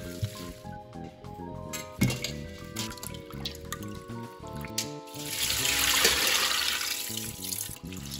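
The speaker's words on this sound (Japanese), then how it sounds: "さっとお湯にくぐらせたらもうすぐに冷やしていきます" Running, splashing water as blanched spinach is cooled after a quick dip in salted boiling water, swelling midway under steady background music.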